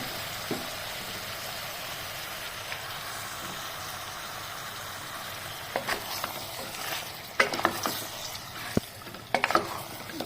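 Marinated mutton hitting hot fried spice paste in a pan, a steady low sizzle with a few scraping clinks of a spatula toward the end.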